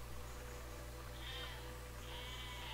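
Sheep in the video game Besiege bleat twice, two wavering calls over a steady low hum, moderately faint and without talk.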